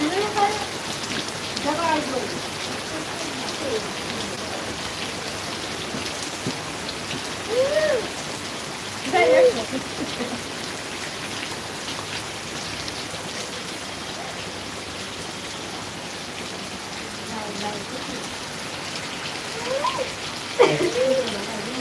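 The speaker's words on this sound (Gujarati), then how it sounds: "પૂરા વરસાદ આવે હે એ પૂરા વરસાદ આવે" Heavy rain falls in a steady, dense patter that continues throughout. Voices speak at moments over the rain.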